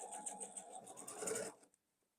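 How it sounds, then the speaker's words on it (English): A sewing machine runs in a short burst of rapid, even stitching across a quilt block and back-stitches to lock the seam, then stops abruptly and leaves near silence. "I'm going to start here, back stitch, and I'm just going to stitch about 1/2 inch over to lock that in nice and good"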